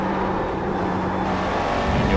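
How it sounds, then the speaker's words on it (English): A McLaren MP4-12C GT3 race car corners at Circuit de Spa, its engine a loud, continuous onboard roar that holds steady as the car slides toward the outside of the bend. "you'll hear the car sliding to the outside of that corner"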